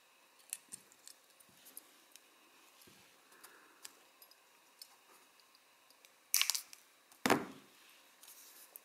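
Wire cutters snip piano wire flush while making a spinning fishing lure, two sharp metallic clicks close together after quiet fiddly ticks and handling sounds, close and faint otherwise.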